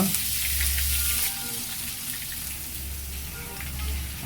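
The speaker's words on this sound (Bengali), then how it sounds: "গরম কড়াইতে এখন প্রথমে পেঁয়াজ বাটা দিচ্ছি" Onion paste dropped into hot oil with cumin in a wok, producing a steady, close sizzle with faint popping over a low hum.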